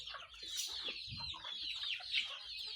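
Free-range village hens cluck in short, repeated bursts close by, several birds overlapping with quick, clipped calls and a brief louder squawk.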